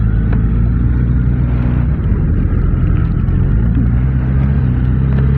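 A Suzuki GSX-S1000GX sport-touring motorcycle being ridden, its engine a steady, loud low drone with wind rush throughout, with no talk.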